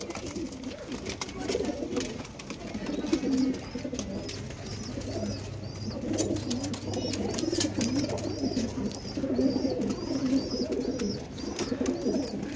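Pigeons coo repeatedly on a home rooftop, soft rolling calls overlapping at close range over faint background noise, with a few light chirps mixed in.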